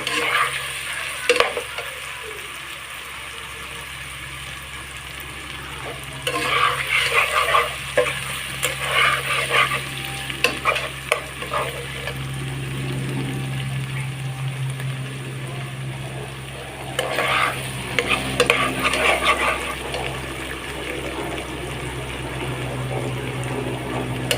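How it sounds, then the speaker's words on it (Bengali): Banana flower fries slowly in a pan for a thick curry, with a constant low sizzle and bursts of scraping and stirring strokes that come and go in several clusters. "আমি একটু সময় নিয়ে কষিয়ে নিই"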